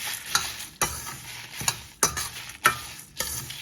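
Lentils dry roasting in a pan for rasam powder give a soft sizzling hiss broken by regular scraping stirs about every half second, close and fairly quiet, with no voices.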